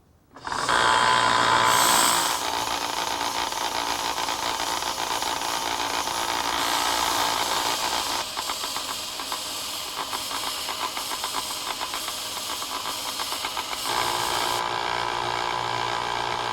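A power sander grinds against a steel rod in a loud, sustained hiss, starting abruptly, then droning on with shifts in pitch as pressure changes.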